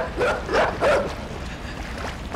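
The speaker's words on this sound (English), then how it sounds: "There's the dog." A dog in the video game Inside barks in a few sharp, loud bursts spaced over two seconds, with a game soundscape underneath and no talking.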